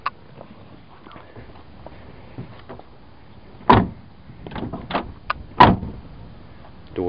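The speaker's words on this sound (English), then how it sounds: "Door is shut properly" The heavy door of a 1976 Cadillac Fleetwood shuts with two solid thumps a couple of seconds apart, against a quiet background with a few soft clicks and rustles.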